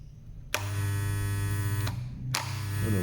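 An Andis ProAlloy hair clipper runs with its blade closed, giving a steady close electric hum and buzz with two brief clicks or blade shifts partway through.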